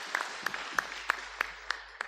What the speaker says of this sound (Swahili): Pigieni praise team makofi.